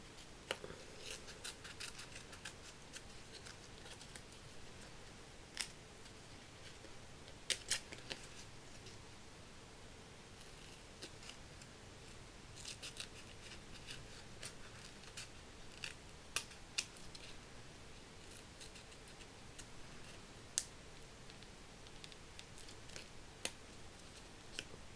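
Scissors work steadily through a Christmas card during papercraft, giving a continuous run of small snips and rustles over a constant background hiss, close and fairly quiet, with no one speaking.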